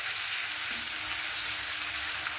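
Small marinated chicken pieces frying in a pan for restaurant-style mixed fried rice, giving a steady, close hiss and sizzle that holds evenly throughout.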